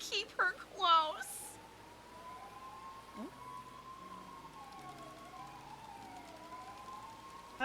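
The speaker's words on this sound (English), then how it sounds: "It is a lot of sirens, very suddenly." Brief voices at the start, then distant emergency sirens wail and warble, rising and falling steadily in the background.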